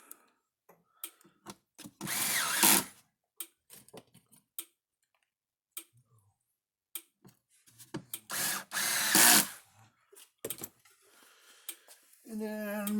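A power screwdriver works on a Gallagher S20/S50 fence charger during a wire harness repair, whirring in two close, loud bursts separated by a stretch of small taps and handling clicks.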